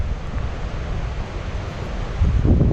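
Rushing water at Khone Phapheng waterfall in southern Laos roars as a steady, broad wash, swelling louder near the end.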